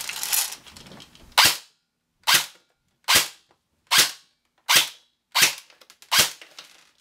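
Airsoft gun powered by a LiPo battery firing single shots on semi-auto, seven sharp evenly spaced cracks about once every 0.8 seconds, close and loud with silence between.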